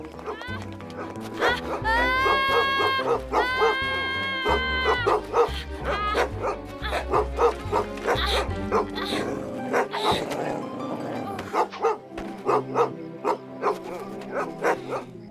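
A dog barks and yips repeatedly up close in a cartoon, in quick, excited bursts that continue through the whole stretch.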